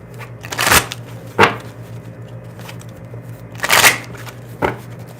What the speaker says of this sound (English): Getting the deck shuffle.